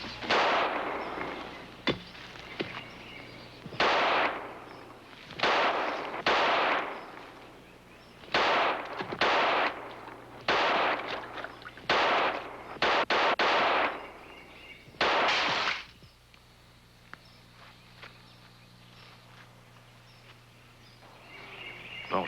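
Repeated gunshots from a hunting gun in an outdoor setting, about a dozen sharp reports spaced irregularly over the first two-thirds, then quiet with faint background.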